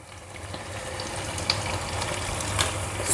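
Chopped tomatoes and scotch bonnet pepper frying in a pot with seasoning cubes and salt, a brief soft sizzle with a couple of stirring scrapes, growing slightly louder.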